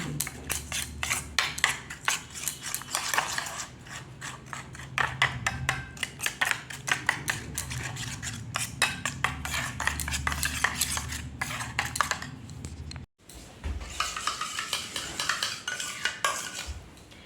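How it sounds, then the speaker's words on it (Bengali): A spoon stirs curd and coffee together in a bowl for a face pack, giving a rapid run of clinking, scraping strokes close to the ear that carries on for a long stretch, stops for a moment, then resumes with no talking. "দই আর কফিটাকে একটু মিক্স করে নিলেই হবে"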